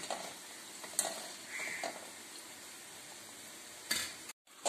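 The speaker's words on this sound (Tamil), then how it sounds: "இப்போ எல்லாத்தையும் பொரிச்சு எடுத்துக்குறோம்" Gulab jamun dough balls deep-frying in hot oil for a Diwali sweet give a soft, steady sizzle, with occasional stirring and light clinks of a utensil against the pan. No one speaks.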